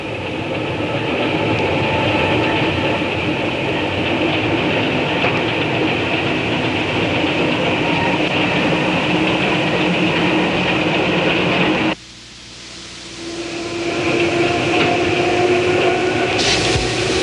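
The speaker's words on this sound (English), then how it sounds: "it's a London and Port Stanley passenger car being used as a freight motor, Locomotive 12." An electric London and Port Stanley interurban passenger car, working as a freight motor as Locomotive 12, runs with a loud, steady rumble and whine. The sound drops suddenly partway through, then builds again.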